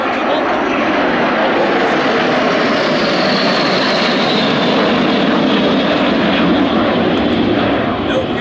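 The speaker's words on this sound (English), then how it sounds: "This aircraft is able to fly at 900 km per hour and is able to sustain 8 G's." A two-seat, single-engine jet from an air show display team roars overhead at an international air tattoo, a loud sustained engine wash that swells and fades slightly across the whole stretch with no pauses.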